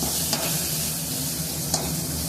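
Fish masala gravy with chilli, coriander and turmeric powders sizzles steadily in a pan while being stirred, with a couple of soft scrapes cutting through the constant frying hiss.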